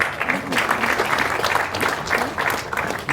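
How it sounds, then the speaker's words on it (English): An audience at a groundbreaking ceremony for a new data facility claps steadily for a speaker, a close, sustained wash of applause with no one talking. "Let's give him another round of applause."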